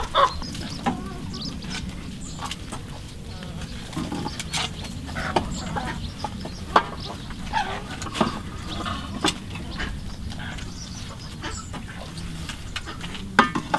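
Hens and mallard ducks kept together in a farmyard, clucking and quacking softly in scattered bursts over a low continuous background, with occasional sharper calls nearby.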